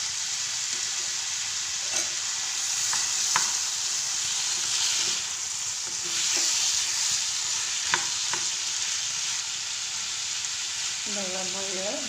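A chili curry mixture sizzles in a pan while a spoon stirs it, with a steady frying hiss broken by occasional scrapes and taps. A faint voice-like tone rises near the end.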